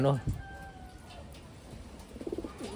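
Taiwan pigeons coo softly and intermittently, close by but quiet, with faint rustling between the calls.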